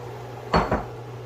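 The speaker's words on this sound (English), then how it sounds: "we'll go ahead and throw in our shrimp seasoned." Seasoned shrimp tipped into a pan of cooking vegetables for fajita shrimp burgers, heard as two quick close clattering knocks of utensil and pan over a low background hum.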